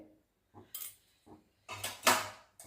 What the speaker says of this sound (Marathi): इथे मी दीड चमचा छोट्या चमच्याने टाकत आहे